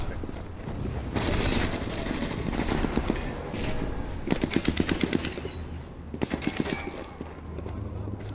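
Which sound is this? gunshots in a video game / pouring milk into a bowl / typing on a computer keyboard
gunshots in a video game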